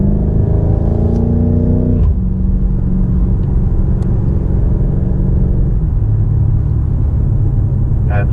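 A BMW M5 Competition powers out of a corner on the Indianapolis road course, its engine note rising steadily with a gear change near two seconds, then a droning rumble and whir at constant loudness under a faint voice.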